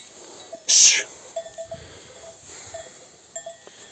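Sheep grazing with cowbells on a wet, grassy highland meadow at Kovucak plateau in Mudurnu, Bolu, after days of rain. Sparse bell clinks ring out, with one louder bright jangle near the start, over a soft outdoor hush.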